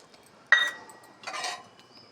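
Spoon scraping and clinking in a bowl while oats are mixed with chopped tomato, capsicum, carrot and ginger-garlic paste; two short bursts of mixing a second apart, close and fairly quiet.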